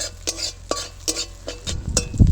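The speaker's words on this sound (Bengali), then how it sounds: "দেখো আমাদের মশলাটা ভাজা হয়ে গেছে এখানে" A spoon stirs turmeric-spiced masala frying in a pan, with a series of clinking, scraping strokes against the metal, close and distinct, and a soft sizzle rising near the end.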